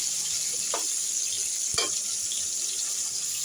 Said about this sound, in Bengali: এভাবে উল্টিয়ে পাল্টিয়ে পটলটাকে আমি এখন ভেজে নিব আরকি।